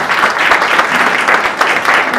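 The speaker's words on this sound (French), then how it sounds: "Je pense qu'on peut les applaudir." Steady applause from a room of people at a workshop talk, clapping continuously at a moderate volume for a couple of seconds with no voices on top.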